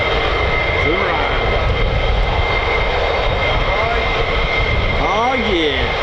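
F-15 fighter jet taking off on afterburner at RAF Lakenheath, a loud, unbroken broadband roar that holds steady for about six seconds with no pause or talk.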